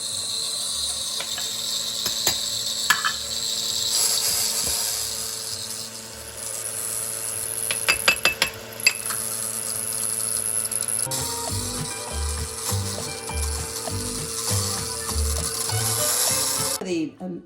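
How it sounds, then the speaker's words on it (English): An electric mixer beats chocolate cheesecake batter with cocoa, sugar, eggs and cream, a continuous whirring drone with rattling bursts as it works, loud and close with little break. "The noisy mixer"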